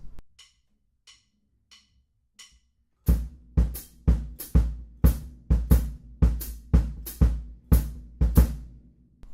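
Four quiet clicks count in, then a drum groove kicks in with punchy bass drum in dotted eighth notes and snare hits in a syncopated, steady pattern, close and clear.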